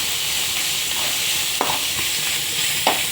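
Mint leaves frying in a pan on low heat for Telugu pudina chutney, a continuous close sizzle and hiss with a few soft stirring scrapes, no voices.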